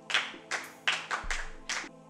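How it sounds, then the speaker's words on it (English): A class claps in short separated bursts, about six quick rounds of hand clapping at moderate volume in a room, with no talking. "Clap for him."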